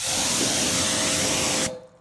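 Steady hissing roar of a pressure washer spraying water onto a car's paint and windows, loud and close, running continuously before cutting off abruptly near the end.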